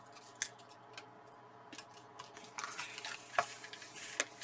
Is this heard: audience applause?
no